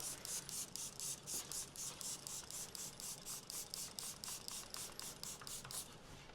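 Rapid bursts of hissing spray from a 360 spray bottle spraying soap solution repeat in a steady pulsing rhythm, close by, over a low background rumble.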